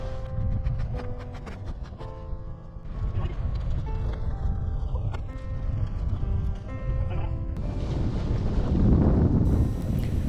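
On a sailboat running downwind toward the Bay of Islands, strong wind buffets the microphone in a continuous roar that swells louder near the end. Faint tonal sounds sit underneath and there is little talking.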